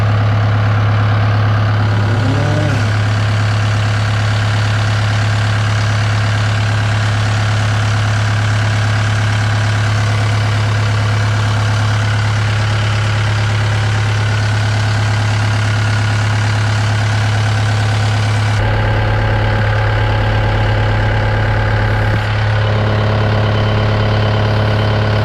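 Cat 272D3 skid steer diesel engine idling close by, a loud, steady low drone that holds for the full stretch, shifting slightly partway through.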